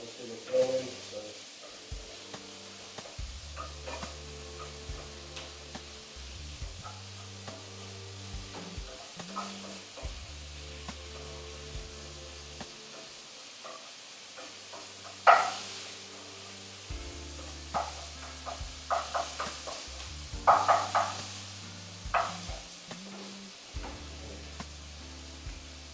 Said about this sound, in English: Just heat this through basically and merge it into the new little base of flavours that I've got here in the pan